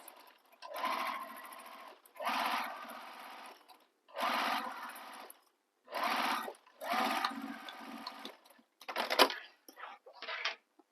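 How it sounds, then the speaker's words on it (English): A sewing machine stitches the bottom of a fabric bag closed in several separate runs, with short pauses between them and a sharper final burst before it stops. "So now we're going to sew this bottom closed"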